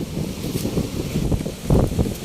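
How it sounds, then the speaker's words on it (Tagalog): Strong wind gusts buffet the microphone at a beach during an outdoor picnic cookout, a steady low rumble with louder bursts toward the end and no clear talk. "Masyadong mahangin"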